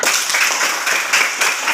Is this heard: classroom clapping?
yes